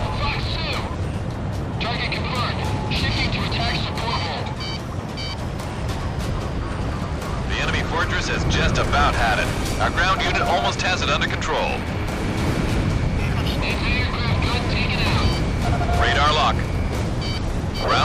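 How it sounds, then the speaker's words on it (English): Missile explosions and gunfire during jet combat in Ace Combat 6: a continuous roar of booms and rattling fire with rising and falling blasts, heard under radio voices. "Missile went on target."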